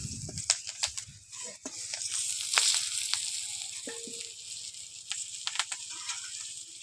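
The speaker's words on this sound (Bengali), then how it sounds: "এবার এই তেলের মধ্যে শুধু কাঁচা লঙ্কা ফোড়ন দেব, অন্য কিছু দেব না।" Green chillies tempering in hot oil left over from frying aubergines, a faint, soft sizzle broken by sharp crackles and pops, with low rustling movement.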